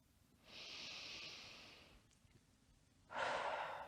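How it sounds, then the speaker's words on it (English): Slow, deep breathing in a Pilates exercise: a long, steady breath drawn in through the nose, a short pause, then a stronger breath pushed out through the mouth, close and alone. "practicing breathing in through your nose and out through your mouth"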